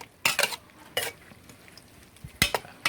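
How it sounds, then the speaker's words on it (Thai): Sliced pork salad being tossed with fish sauce, heard as a few brief clinks and scrapes of a utensil against a bowl, spaced out over quiet background with no talk. "แล้วก็คลุกเคล้ากับน้ำปลาให้เข้ากันนะครับ"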